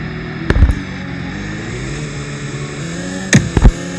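A 370-horsepower car engine in the Roblox video game, a low droning hum that climbs slightly in pitch as it accelerates after being shifted into drive, with a few sharp thumps near the start and end.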